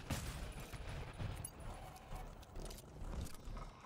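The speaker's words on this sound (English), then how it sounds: "Oh, come on, why is it shooting at me?" Rapid gunfire from enemies shooting at the player in the video game FLUX, a dense, continuous clatter of shots with low thumps, fairly loud and busy throughout.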